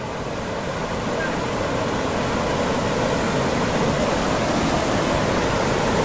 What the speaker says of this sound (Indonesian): Tapi arusnya agak deras.